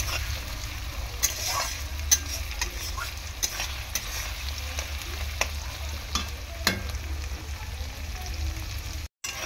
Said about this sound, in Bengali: টমেটো আর পেঁয়াজটাকে ভালো করে এরকমভাবে নাড়াচাড়া করে নেব তেলের মধ্যে।